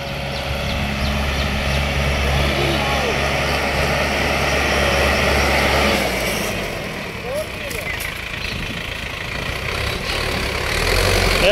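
An Eco Master 554 55hp 4x4 tractor pulls an 18-disc harrow under heavy load with a loud, steady droning engine. The low rumble eases partway through, then builds again.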